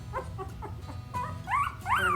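A newborn puppy whimpers and yips in a series of thin, rising cries, close by, growing louder toward the end, with a faint low murmur underneath.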